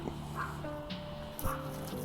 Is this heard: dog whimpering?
yes